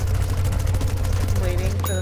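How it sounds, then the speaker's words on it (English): Rapid, steady fire from a Gatling Pea in Plants vs. Zombies Garden Warfare 2, a dense stream of cartoonish shots over a constant low game hum, with a bright chime near the end. "I got my Gatling P just shooting stuff."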